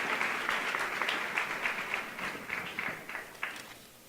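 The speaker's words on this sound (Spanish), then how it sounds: "nuevamente un aplauso para ellos" An audience at an engineering programs network meeting claps in a brief round of applause that starts full and gradually thins out over four seconds.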